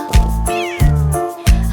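A cat gives three loud, close meows in quick succession, each a short rising-and-falling cry with strong harmonics, heard alone with no speech.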